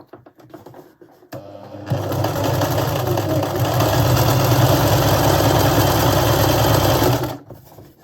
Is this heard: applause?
no